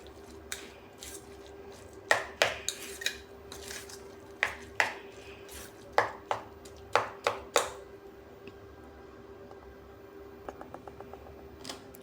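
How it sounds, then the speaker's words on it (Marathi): Roasted eggplant bharta is mixed with raw onion in a bowl, making about a dozen close, wet squishes and clinks in an uneven rhythm, with quieter taps near the end. "मस्त एकजीव करून घ्यायचं"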